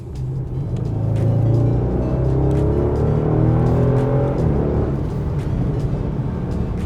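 Deep V8 rumble of a 2017 Bentley Continental GT V8 S heard from the cabin, a steady loud low drone that swells with rising revs and then settles.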